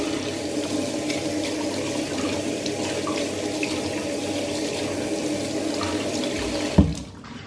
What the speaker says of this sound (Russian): И надо помыть лопатку.